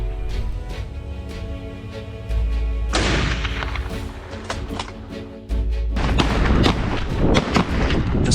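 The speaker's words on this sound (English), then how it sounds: "a brave shot." Rifle shots during a wild boar hunt, several loud sharp cracks and booms over a dense background of music or rumble, closely spaced with bursts of noisy reports.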